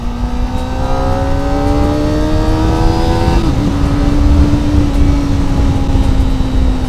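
Kawasaki ZX25R sport motorcycle engine revving hard, a steady high-pitched four-cylinder whine rising then dipping slightly midway, loud and close with a continuous rough exhaust roar and no talk.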